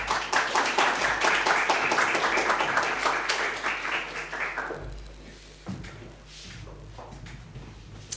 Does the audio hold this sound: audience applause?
yes